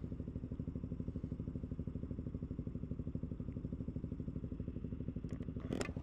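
A motorcycle engine runs at a steady, rapid idle with an even pulsing beat, quiet and close, with a few brief clicks near the end.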